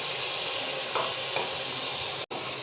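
Malabar spinach (pui shak) fries with dried chili powder and dried fish in a pan, a loud, steady, close sizzle with a couple of soft stirring scrapes and a brief drop near the end.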